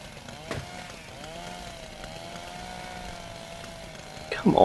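A chainsaw in the video game Little Inferno drones steadily with wavering pitch for several seconds, ending in a louder burst of noise; a voice speaks briefly near the start.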